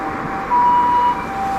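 An ambulance siren sounds on a street in Gunma, Japan, a steady wailing tone that swells louder for a moment in the middle over background traffic noise.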